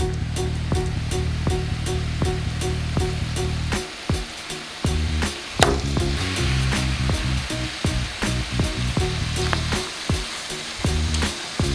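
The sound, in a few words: salmon frying skin-side down in a pan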